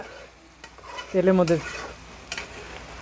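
A large potato, mixed with onion, chili and a light dusting of spice powder, fries softly in oil, with scattered stirring clicks and a brief voiced hum near the middle.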